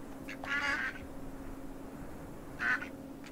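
Game ducks from Farm Together 2 give two loud, clear quacking bursts a couple of seconds apart, heard alone over a faint steady background tone.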